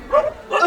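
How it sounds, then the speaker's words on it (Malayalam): A dog in a movie scene gives two quick, high, yelping barks close by, each short and sharp, with a brief gap between them. "സൂസേ, നിന്റെ നായ്ക്ക് കാലത്തോട്ട് നല്ല വിശപ്പാണെന്ന് തോന്നല്ലോ."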